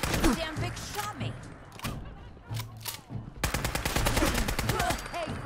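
Rapid bursts of automatic gunfire rattle in a Fallout 4 firefight in Nuka World, with sharp single shots and a long sustained volley near the end.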